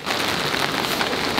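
Steady, dense rain falls outdoors in the evening, a continuous broadband hiss of drops pattering on surfaces that holds constant and fairly loud throughout, with no voices.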